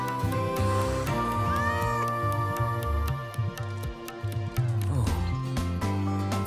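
A frightened cat in a video game meows repeatedly in drawn-out, rising cries over layered game music with ticking accents.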